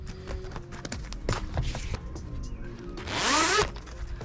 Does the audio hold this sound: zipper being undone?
yes